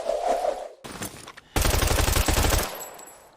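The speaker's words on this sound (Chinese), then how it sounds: "这里的枪声必定会引来他人注意。" Video game gunfire: a short burst of rapid, loud automatic shots with evenly spaced reports, preceded by quieter scraping and movement sounds.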